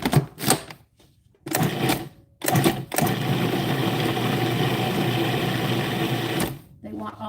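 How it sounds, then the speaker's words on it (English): A food processor pulsing a butter and flour mixture for an all-butter pie crust: several short loud bursts, then one sustained whirring run of a few seconds, with brief pauses between, close and alone. "we got a little more pulsing to do"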